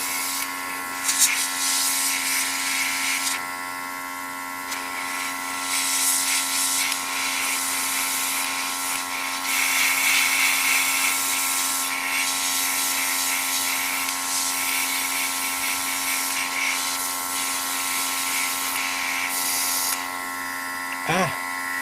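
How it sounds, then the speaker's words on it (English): A single-action airbrush sprays paint onto a 1/144 Zeta Gundam model, with a continuous airy hiss that swells and fades in bursts over a steady mechanical hum. "I know this is what's called a single action airbrush."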